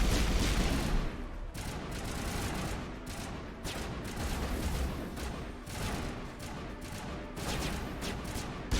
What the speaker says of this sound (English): I like how they're shooting at him when he's like completely concealed.